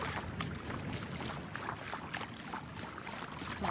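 Tourist boat engines and water wash off a beach blend into a continuous murmur, with wind buffeting the microphone; no voices stand out.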